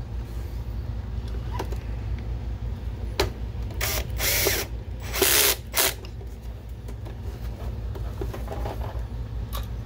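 A screwdriver driving screws back into the plastic case of an Optoma HD141X DLP projector, with short whirring bursts and a couple of louder buzzing runs over a steady background hum, close by, with no talking.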